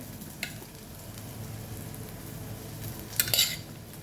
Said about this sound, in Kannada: ಅಲ್ಲಿ ಒಗ್ಗರಣೆ ಬೇಯ್ತಾ ಇದೆ